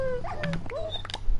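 Short high whimpers and yips from wolves in Minecraft, a few close, thin whining cries packed into about a second.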